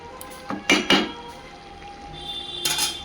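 A lid set back onto a cooking pot of Bengali vegetable chorchori gives two quick close metallic clanks, followed by a quiet background.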